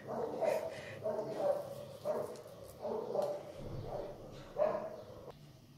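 A dog barks repeatedly in uneven bursts, fairly close and moderately loud, in a home kitchen in Morocco where rghaif dough is being prepared; short yips mix with the barks over faint background noise.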